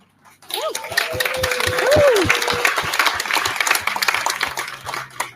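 A crowd at the Special Olympics Illinois Summer Games breaks into loud applause that swells and holds for several seconds, with a few whoops and voices mixed in.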